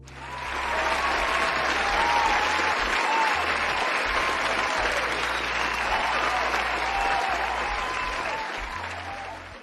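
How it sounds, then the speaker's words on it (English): An audience applauds a guest named Chidima at a talk-show style gathering, with steady, full clapping that swells in quickly and holds for several seconds before easing slightly. "You deserve an applause."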